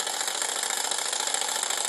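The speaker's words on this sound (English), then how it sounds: "take it out if you wanted to, and the engine will slowly die down and shut off." A small single-flywheel hot air Stirling engine toy, heated by a flame, gives off a continuous close rattling whir with a fast, even mechanical patter and no voices.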